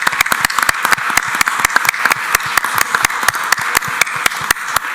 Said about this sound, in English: Please, a warm round of applause to them.